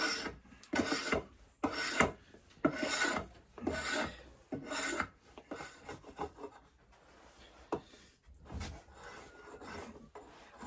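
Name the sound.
scraping a wooden stick with a blade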